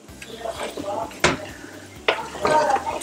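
Beans being stirred in a cooking pot in a home kitchen, with a spoon scraping and clinking against the metal in two sharp bursts amid low household background noise.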